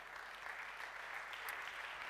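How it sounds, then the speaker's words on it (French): Audience at the E-Commerce Awards 2014 ceremony applauds itself with a dense, steady wash of clapping, fairly distant and even throughout. "Donc applaudissez-vous,"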